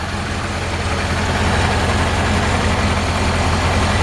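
A 1955 Ford F100 pickup with a period-correct Y-block V8 idles close by, a loud steady low rumble that continues unbroken throughout.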